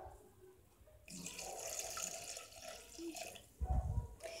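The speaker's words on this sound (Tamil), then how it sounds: "இப்போ அதில் நம்ம மோரை வந்து சேர்த்துடலாம்." Salted buttermilk pours into cooled cooked little millet in a kitchen. A soft, steady liquid splash runs for a few seconds and swells into a fuller gush near the end.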